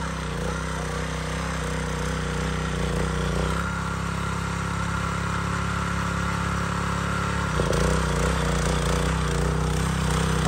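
A tractor engine runs steadily nearby in a garden, a continuous mid-pitched mechanical drone with slight shifts in tone, heard alone for about ten seconds.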